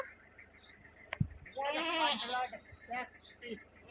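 A goat at a livestock market, sold alongside cattle and carabao around Eid, gives one strained, wavering bleat midway through, close and fairly loud, with a couple of shorter calls after it and people talking nearby.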